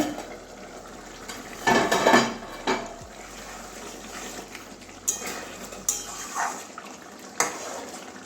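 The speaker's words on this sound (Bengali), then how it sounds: "এবারে ঢাকনাটা খুলে দেখছি" Metal lid lifted off a cooking pot of boiling egg and pointed gourd curry, with a few clattering clanks and scrapes of cookware up close, then quieter kitchen background.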